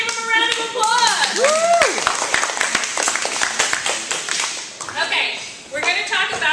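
Scattered, fairly close hand claps from a school audience during a talk on stress, suicide and depression, mixed with loud voices and cheering that rise and fall over the claps.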